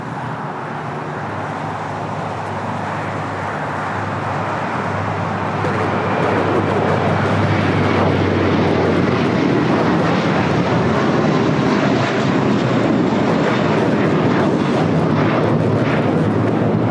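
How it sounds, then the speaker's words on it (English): An American Airlines A321 airliner takes off at LAX. Its jet engines roar up into a loud, sustained, broadband rumble that swells and then holds steady. "This is American Airlines 1024 taking off to Orlando on the A321."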